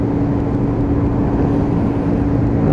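A boy racer's car goes by on a morning road, its engine a steady, loud broadband roar with a low rumble that holds throughout without fading.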